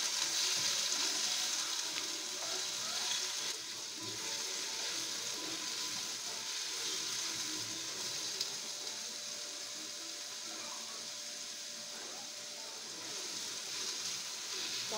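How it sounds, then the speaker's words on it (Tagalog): Pineapple chunks frying in oil in a pan make a steady, continuous sizzle and crackle, close and even throughout, with no voices. "sa isang kawali po maglagay po tayo ng oil. Tapos iprito po natin ng konti yung ating pineapple chunks"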